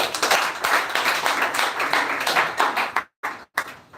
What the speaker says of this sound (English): please clap for Miss Christie